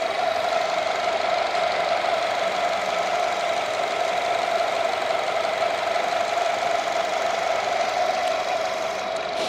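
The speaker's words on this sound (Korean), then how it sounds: "엔진 소리 먼저 한번 들려드릴게요" A Nissan Altima engine idles steadily in front of the open engine bay, a smooth, even hum with a faint ticking texture that stays constant and moderately loud throughout.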